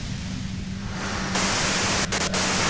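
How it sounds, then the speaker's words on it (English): Loud white noise static filling the whole clip, a steady hiss that jumps brighter and louder about halfway through, with two brief dropouts near the end. "you can do it through the white noise."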